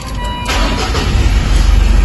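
A car engine cranks and catches after a fuel filter replacement, rising into a loud, close, rumbling idle over about two seconds.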